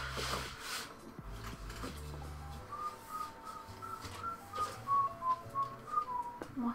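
A person whistles a melodic tune from an anime film soundtrack indoors while colouring, a clear wavering line of notes that grows louder and more rhythmic toward the end, over a low background hum.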